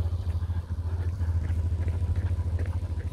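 A motorcycle passes a roadside crowd during a 5 km road race at a half-marathon, giving a steady mid-pitched engine rumble with a throbbing pulse, close by and fairly loud, with no voices.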